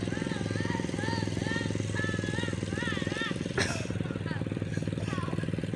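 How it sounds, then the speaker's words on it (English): A small go-kart engine drones steadily nearby with a buzzy, rattling tone while it drives and drifts. A voice rises and falls over it, and there is a brief scrape partway through. "Drunk kid on go-kart."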